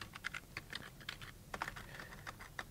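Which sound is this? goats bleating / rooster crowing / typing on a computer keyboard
typing on a computer keyboard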